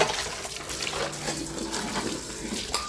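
Tap water runs into household vessels being filled in a village home, a steady splashing gush heard close and alone throughout.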